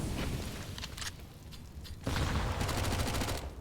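Counter-Strike gunfire on the Nuke map, with a player spamming shots and reloading: rapid crackling bursts, a brief lull, then a denser stretch of sustained fire.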